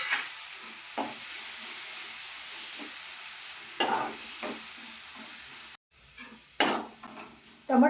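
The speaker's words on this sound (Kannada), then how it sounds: "ಟೊಮೊಟೊ ಮೆತ್ತಗೆ ಹಾಕೋವರೆಗೂ ಬೇಯಿಸ್ಕೊತೀನಿ" Small pieces of chopped tomato fry in a pan with a constant soft sizzle, broken by occasional scrapes and stirring knocks of a spoon against the pan.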